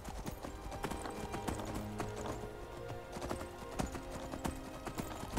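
Steady clip-clop of horse hooves at a trotting rhythm in Skyrim, close and fairly loud, with game music and ambient sounds underneath.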